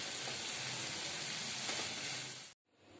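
Food sizzles and fries steadily in a hot pan in a home kitchen, a loud continuous crackling hiss that cuts off abruptly near the end, with no voices.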